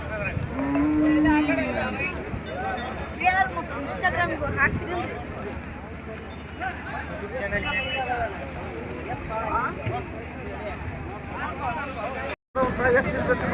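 Bullocks at the Gadag cattle market give a low moo early on, amid a busy crowd murmur and people talking nearby.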